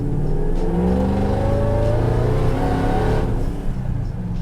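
Supercharged, slammed GMC Sierra truck on 26-inch wheels rolling over bumps and dips, a loud steady engine and road drone heard from inside the cab, with no voices.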